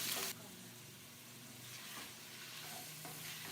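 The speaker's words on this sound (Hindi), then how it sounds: "बाद हम जो बोनलेस चिकन है हमारा वो हम इसमें ऐड कर देंगे। इसको हम 5 से 4 मिनट इसी तरह हम फ्राई करेंगे" Boneless chicken pieces fry in a pan for chicken noodles, giving a soft, steady sizzle with faint stirring scrapes. The sound is quiet and continuous, and no one speaks over it.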